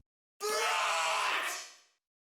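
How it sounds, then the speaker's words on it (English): A man yells and screams hard into a microphone, a single loud, raw, strained scream that starts abruptly, holds for about a second, then tails off into silence. "I doubled it with some screams of me just yelling"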